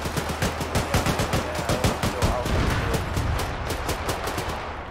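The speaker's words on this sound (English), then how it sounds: "I appreciate you guys shooting your weapons at it" Rapid, continuous gunfire from several weapons aimed at a tank in the military video game Arma 3: loud, dense cracking shots that overlap into a sustained volley with no voices.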